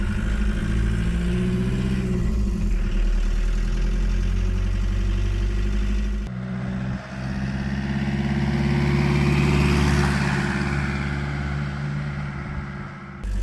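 A Chevy S10 pickup with a swapped diesel engine runs loudly with the hood off, windows open and no floor carpeting, a steady low clattering drone that swells as it revs, with no talk over it.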